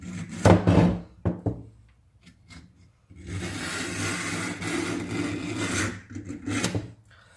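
Knife blade drawn through an Accusharp pull-through sharpener, several short rasping strokes followed by a long continuous scraping grind of about three seconds, then a few more quick pulls, close and dry-sounding with no talk.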